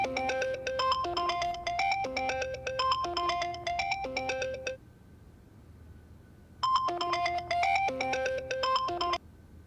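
A phone ringtone plays a repeating melodic pattern, pauses for about two seconds, then starts again, clear and fairly close.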